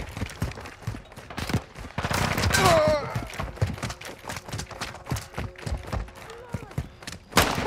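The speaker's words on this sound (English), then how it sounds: "Taking effective fire!" Video game gunfire from Call of Duty: Modern Warfare II multiplayer on the Farm 18 map, with rapid bursts and scattered single shots cracking across several seconds, mixed with shouted voices and other battle noise.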